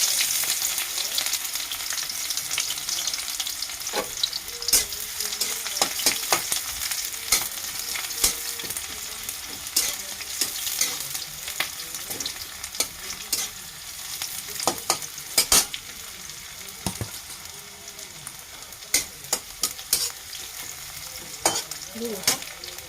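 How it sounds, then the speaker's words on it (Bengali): Onions frying in hot oil for a Bengali leafy-greens dish, sizzling steadily while a spoon or spatula scrapes and stirs them in repeated sharp strokes; no talking. "তেল গরম হয়ে গেছে, পেঁয়াজ দিয়ে দিলাম।"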